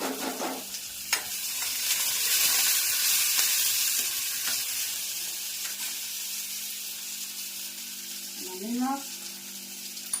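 Tomatoes frying in hot oil with cumin and ivy gourd give a steady, close sizzle with occasional stirring clicks, and a short voice comes in near the end.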